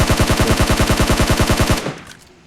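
Rapid automatic gunfire from the PUBG video game, with an M416 rifle on the map of Erangel: a loud, steady burst of evenly spaced close shots for nearly two seconds, then a fading tail.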